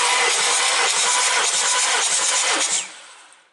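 A 2004 Mercedes-Benz ML W163 2.7-litre turbodiesel, engine 612.963, cranks on the starter during a compression test, giving a steady rhythmic churning that cuts off and fades near the end.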